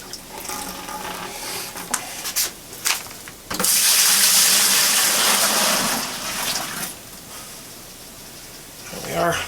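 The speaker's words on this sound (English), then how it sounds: "I'm going to add my cooled, it's not really that cool, it's actually still warm, wort mixture here to my fermenter" Warm homebrew wort for an English porter gushes steadily into a fermenter for several seconds, loud and close, after brief clatter and handling noises.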